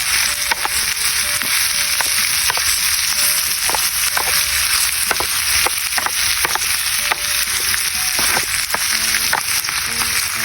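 Beef tuwi sizzling and frying in a pan for adobo, with a steady loud crackle and hiss broken by scattered pops and stirring scrapes.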